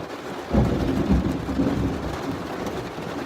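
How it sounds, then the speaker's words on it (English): Thunder from a lightning storm during a tornado outbreak in Alabama rumbles low and steady beneath constant rain, with a heavier roll early on that keeps churning through the short stretch. "I hope you guys are getting this lightning barrage here."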